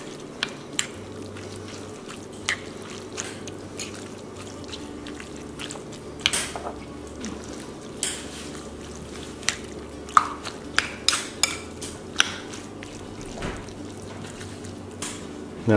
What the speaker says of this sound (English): I like to mix the jackfruit into with all the vegetables.